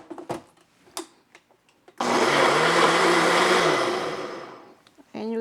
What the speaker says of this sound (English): now we're gonna blend it